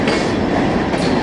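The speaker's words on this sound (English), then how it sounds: "The alien train departs" A train pulling away, its loud steady rumble and faint clickety-clack of wheels on rails filling the short moment, with no voices over it.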